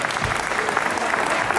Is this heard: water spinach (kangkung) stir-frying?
no